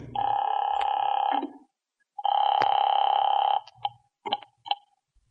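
An old radio-drama telephone effect: a long dial tone, a pause, a second long tone, then several short dialing clicks and ticks, close and clean with no talking.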